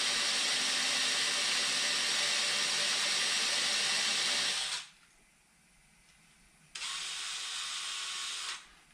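A drill bit lubricated with fluid bores into aluminum, a loud steady high whine running for about five seconds, dropping to a brief quiet gap, then starting again for another two seconds before stopping.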